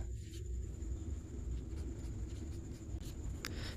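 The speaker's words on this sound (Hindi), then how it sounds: "यहाँ पे मैं लिख भी दे रहा हूँ" Faint scratching strokes of writing on a board in a Class 12 physics lesson, soft and steady under a constant room hum, with no voice.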